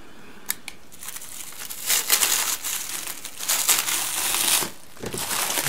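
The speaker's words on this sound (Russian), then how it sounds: "наконец-то я справился с этой тонной полиэтилена" Thick plastic wrap being pulled off a parcel of comics, giving a steady, close crinkling and crushing that swells into dense rustling bursts and continues for several seconds without speech.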